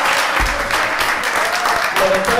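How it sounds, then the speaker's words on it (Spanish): Applause at a family gathering at home, a small group clapping in quick irregular bursts for about two seconds, close and fairly loud. "Un aplauso para el personaje que está acá"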